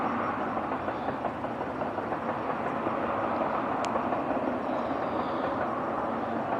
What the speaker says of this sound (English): We only get the freight trains through town now.